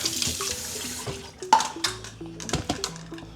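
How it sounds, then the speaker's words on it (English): A measuring cup rinsed under a running kitchen tap, with water splashing steadily and a few sharp knocks of the cup against the sink, close and alone. "Rinse it out."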